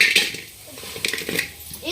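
A metal cooking pot is set down to heat for melting jaggery, giving a couple of close clanks and utensil rattles with a voice briefly audible.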